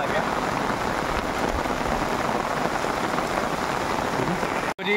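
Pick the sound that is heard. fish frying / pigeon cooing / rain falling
rain falling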